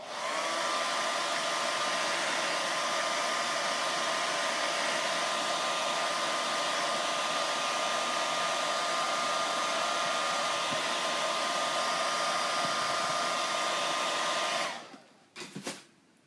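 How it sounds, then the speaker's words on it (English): A hair dryer blows steadily and loudly on a shadow box craft, a constant whooshing motor hum lasting about fifteen seconds before it clicks off and winds down. "I'm going to dry this really quick."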